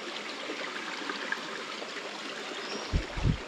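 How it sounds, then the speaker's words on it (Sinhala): Water streams flowing through a Sri Lankan rainforest in the rainy season, heard as a steady, soft wash of running water, with a few low thumps near the end. "වතුර පාරවල් හැමතැනම තියෙනවා"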